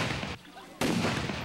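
The starting cannon fires for the Franklin Canoe Race on the river. After a brief lull in the surrounding noise, a sudden loud blast breaks in and the roar carries on.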